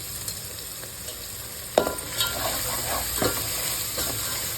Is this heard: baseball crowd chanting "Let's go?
no